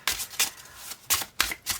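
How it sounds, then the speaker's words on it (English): A deck of cards is shuffled overhand nearby, giving a series of quick, crisp riffling bursts separated by brief pauses. "we are going to shuffle the deck and pick a card"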